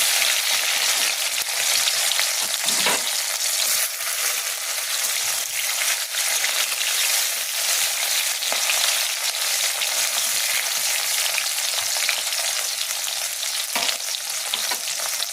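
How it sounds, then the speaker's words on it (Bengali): Tomato fries in hot oil with black cumin, making a loud, dense, continuous sizzle that holds steady throughout, with a couple of brief stirring knocks. "আমি এর মধ্যে দেবো টমেটো"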